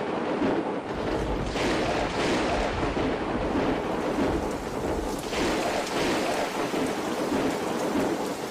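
Thunderstorm with heavy rain and intense wind over Liguria and Tuscany, Italy: a dense, steady roar of downpour fills the whole clip, with deep rumbling thunder rolling underneath and no voices.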